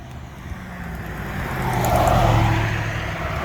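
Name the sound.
busy road traffic, cars passing on Blue Ridge Mountain Road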